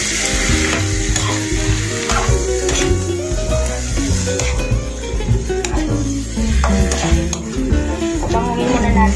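Bird's eye chilies (siling labuyo) drop into a hot pan with bay leaves for lechon manok paksiw, sizzling loudly and steadily throughout with occasional stirring scrapes and clinks.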